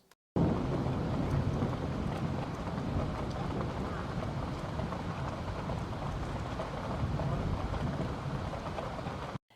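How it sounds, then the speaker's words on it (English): Steady, dense rain with low rumbling thunder woven through, a full broadband wash recorded in a city stairwell setting, continuous and close with no voices. "a lot of mid-range, some thunder in there as well. So let me just play each of these rain recordings"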